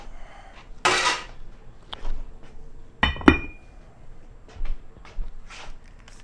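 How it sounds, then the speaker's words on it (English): A pot lid is lifted and set onto another cooker, giving a bright metallic clank and a couple of sharper clinks, close and alone, with faint handling knocks around them. "We're going to take this lid and put it to this other cooker"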